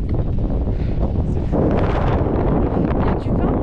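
Wind gusts steadily across a high mountain pass in the Alps, a loud, constant roar buffeting the microphone for the whole stretch with no pause.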